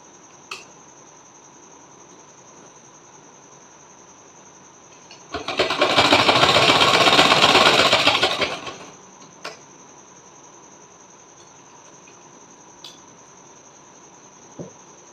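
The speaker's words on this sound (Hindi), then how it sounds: "फ़ोल्ड करके इसकी सिलाई करूँगी" A sewing machine stitches along a folded fabric strip meant as a belt for a small deity-doll dress, running in one steady burst of about three seconds, fairly loud, with a few faint clicks before and after and no talking.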